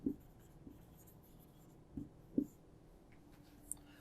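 Marker or chalk strokes tap and scratch on a classroom board during a science lecture, a few faint, brief, separated marks in a quiet room without speech.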